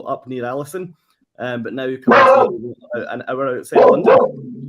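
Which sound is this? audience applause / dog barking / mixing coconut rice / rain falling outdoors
dog barking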